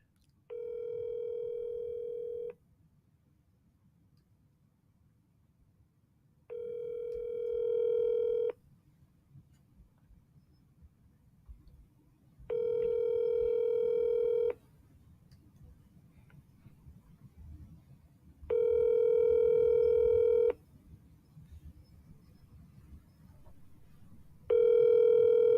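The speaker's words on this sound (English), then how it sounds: "We're going to call Julio as I'm doing the link" Telephone DTMF tones sound in five evenly spaced bursts of roughly two seconds each, loud and clear, separated by quiet gaps of low background noise while a call is placed.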